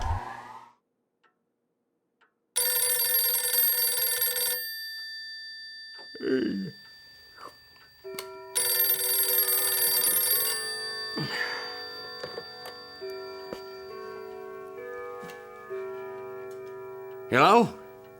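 A telephone rings in two long, bright electronic bursts, with a soft tonal hum continuing afterwards. Brief voice-like sounds break in between and at the end.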